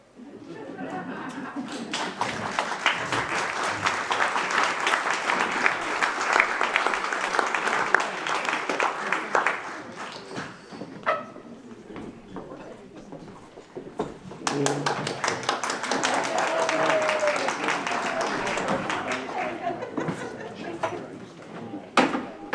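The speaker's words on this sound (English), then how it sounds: "It never fails. He always gets applause." An audience applauds after a scene in a stage show by older performers, two long bursts of dense clapping separated by a quieter gap.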